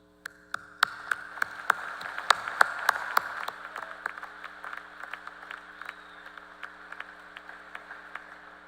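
Scattered applause at a Purdue University Northwest commencement ceremony in Westville: sharp, separate claps ring out in a large hall, swell briefly, then thin out to occasional claps over a low steady hum.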